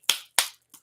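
Two sharp hand claps a fraction of a second apart, followed by a much softer third tap, close and dry with no talking.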